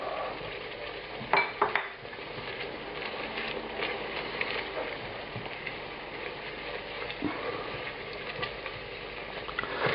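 Garlic frying in a pan for puttanesca, a low steady sizzle with stirring and a few sharp clinks of a utensil against the pan early on, no talk.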